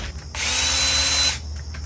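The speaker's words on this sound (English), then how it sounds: "You're obviously gonna need drills." A power drill whirs loudly and steadily for about a second, starting and stopping abruptly, close to the listener with no talk over it.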